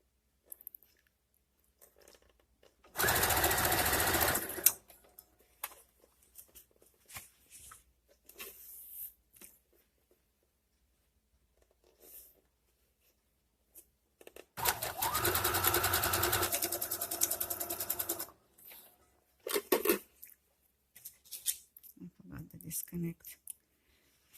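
A sewing machine hems and closes the armholes of a refashioned dress in two loud bursts of rapid stitching, a short one and a longer one, separated by quiet handling, clicks and brief speech.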